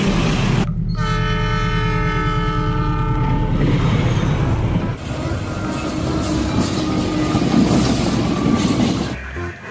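An old executive-class train carriage rolls past. A loud horn blast opens the pass, followed by a heavy, close rumble with rhythmic wheel clatter.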